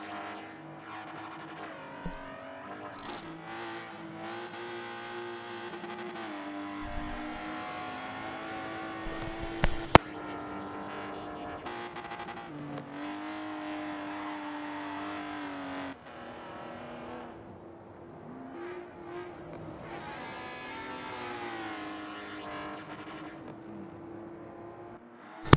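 Race cars lapping the Dubai circuit during a charity race, engines revving and shifting through gears in a continuous loud, close drone, with repeated rising and falling pitch and a few sharp knocks.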